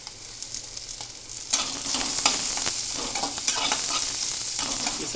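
Capsicum being stir-fried on high flame for chilli paneer. A quiet sizzle jumps to a louder, busier frying hiss as the peppers hit the pan, with scraping stirs and clinks over it, close and without talk.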